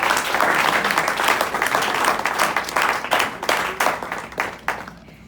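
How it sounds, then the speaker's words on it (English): A room of guests at a baseball banquet's senior awards gives a round of applause, a dense burst of clapping that holds steady and then tapers off near the end. "If you guys could give them a round of applause."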